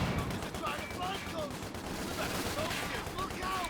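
Machine gun fire and rapid gunshots from Company of Heroes 2 battle, a dense continuous crackle of volleys under a faint commentator voice.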